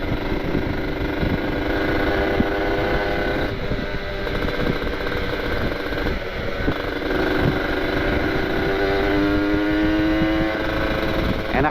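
A motorcycle ridden on a cold road, its engine droning steadily and close throughout with a few shifts in pitch as it changes speed, and no talk over it.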